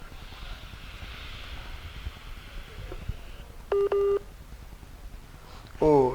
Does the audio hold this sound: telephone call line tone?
yes